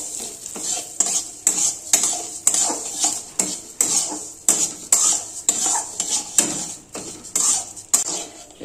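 Mung dal stirred in hot ghee in a metal wok: a rapid run of metal spoon scrapes and clinks against the pan, steady and close, with a faint sizzle underneath and no talk.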